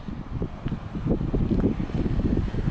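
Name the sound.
wind noise on microphone outdoors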